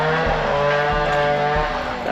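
A motorcycle engine runs close by at a steady idle while being parked, with a few low thumps along the way and no talk.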